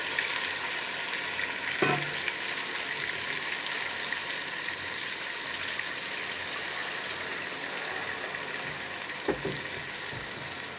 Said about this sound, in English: See the cooking process still going on because of the temperature of the water that I added just now